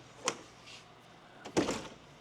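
Entry door of a 2005 Monaco Safari Gazelle motorhome with two latches, giving a short clack followed a second later by a louder latch release and swing, nearby and without talk.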